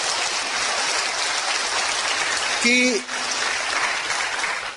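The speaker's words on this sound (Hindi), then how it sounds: "आप जोरदार तालियां बजाइए" Steady, dense clapping from a live audience at a stage event fills the whole stretch, with a short spoken word and a brief tonal sound cutting in partway through.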